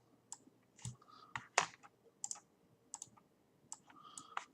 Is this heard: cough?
no